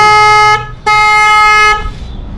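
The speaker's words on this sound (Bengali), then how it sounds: "বড় গাড়ির মতো সাউন্ড আছে হর্নগুলো।" Loud aftermarket horn fitted on a Yamaha motorbike, blasting twice at close range, a half-second toot and then a longer one, bright and brassy like a truck horn.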